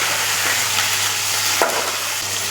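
Onions and tomatoes sautéing in a pan, a steady broadband sizzle with a low hum beneath and an occasional scrape of a spoon stirring, close and continuous with no talking.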